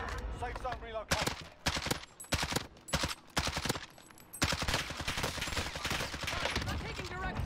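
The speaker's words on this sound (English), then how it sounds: "I'm taking direct fire." Gunfire in the Call of Duty Warzone battle royale game: sharp bursts of rapid shots in clusters, loud and close, with pauses between them and a person talking through and around the firing.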